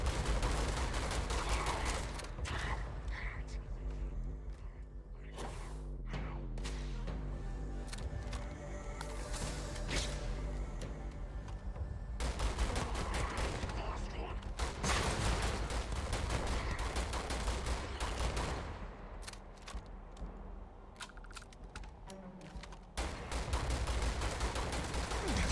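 Gunfire from a weapon in the video game Starfield, sustained bursts of shots and fusillade-like volleys filling most of the stretch, with short quieter gaps between loud clusters.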